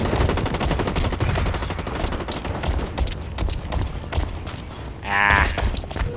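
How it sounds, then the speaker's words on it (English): Rapid bursts of gunfire fill the Blacklight Retribution match, dense automatic shots sounding close and loud almost without a break, with a brief mechanical whir near the end. "Somebody's shooting at me."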